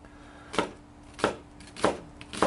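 A knife chops through an onion on a cutting board while it is prepped for a Dutch oven beans-and-franks camp dish: four firm, evenly spaced thuds, close and clear, with no talking.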